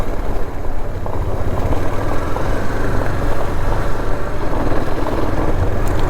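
A KTM Duke 250 motorcycle engine drones steadily while riding, a loud, close, continuous rumble with wind noise and no talking.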